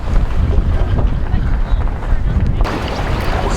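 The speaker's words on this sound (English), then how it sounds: "Still really breezy today." Strong wind buffets a sailboat out on Lake Ontario, a loud, steady rushing roar with gusting noise that drops briefly near the end.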